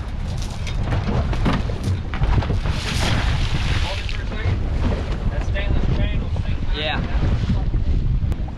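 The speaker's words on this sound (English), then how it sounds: "it is windy out here" Strong wind roars across the microphone aboard an offshore fishing boat about 55 miles out at sea. Water rushes steadily beneath it without a break, and someone talks now and then under the gusts.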